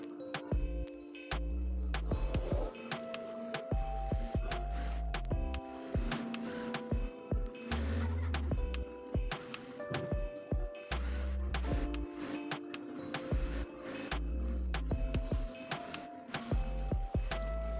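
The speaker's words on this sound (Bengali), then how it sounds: "এখন আমি মুহুরিটা সেলাই করে নিব।" A sewing machine stitching the hem of cotton pajama pants, its motor running in repeated bursts with short pauses, a steady mechanical whir and rhythmic needle clatter, close and fairly loud with no talking.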